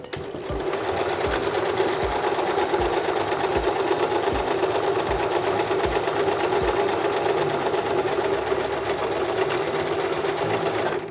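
Sewing machine stitching a quarter-inch seam through layered fabric for a homemade face mask, a steady close rapid mechanical chatter with regular thumping pulses running throughout.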